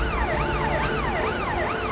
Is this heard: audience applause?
no